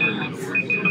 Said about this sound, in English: Trying to stop the timer.